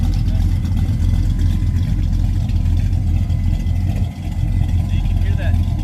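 A drag racing car engine fitted with a race cam runs with a loud, steady, lopey rumble that stays close and dominates throughout, dipping briefly near the end.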